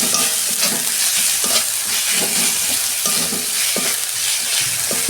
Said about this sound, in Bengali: ভালো করে আমি কষাবো মশলাটা